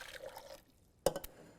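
Hot water poured into a science beaker for a jelly recipe: a faint, brief trickling pour, then quiet and a sharp glassy clink near the end.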